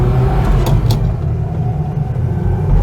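A Renault 4 GTL with the 1108cc engine pulls away from traffic lights, its engine rumbling loud and near beneath a steady low road drone, no voices present.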